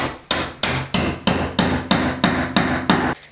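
A hammer-in wall anchor driven into a freshly drilled 6 mm hole in a kitchen wall with about nine sharp, steady hammer blows in a regular rhythm, close and loud, with no talking.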